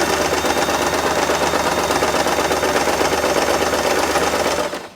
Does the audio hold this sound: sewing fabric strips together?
yes